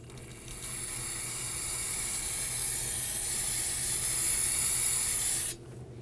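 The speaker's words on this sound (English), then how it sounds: "you want to use some spray solvent to clean up any of that residual brake fluid." A steady, hissing aerosol spray of solvent on brake parts of a 2008-2011 Ford Focus runs continuously for about five seconds, then cuts off abruptly, leaving near silence.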